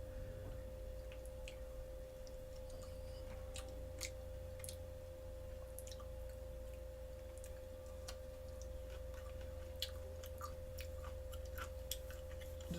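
Someone chews a crunchy Fuyu persimmon with thick, apple-like skin, faint crisp bites and crunches recurring irregularly over a steady low hum and a constant tonal drone, close to the microphone with no talking.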